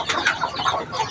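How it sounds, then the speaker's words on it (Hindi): Backyard hens clucking close by in a steady run of short, rhythmic calls, moderately loud, with no one talking. "आज हमारी मुर्गियों ने सिर्फ एक ही अंडा दिया।"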